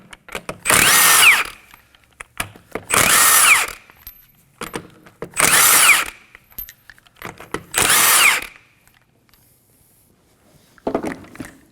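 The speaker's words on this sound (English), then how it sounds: "Using a 21mm socket, go ahead and remove the lug nuts." A power tool with a 21mm socket spins lug nuts off the rear wheel of a 2011-2016 Kia Optima, making four loud, close whirring bursts of about a second each, separated by short pauses. A fainter burst follows near the end. No one talks.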